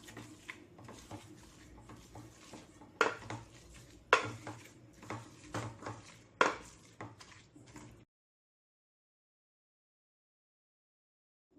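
Cooked chicken for Hyderabadi haleem mashed in a pot, dull thuds and scraping clatter of a utensil against metal with a few sharper knocks, ending in silence.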